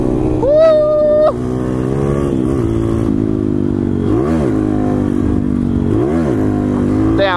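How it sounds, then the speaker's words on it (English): SSR pit bike, a small street-legal dirt motorcycle, revving and accelerating up close with a rising whine that climbs through the gears, loud and steady throughout, with a brief voice near the start. "Street legal SSR pit bike."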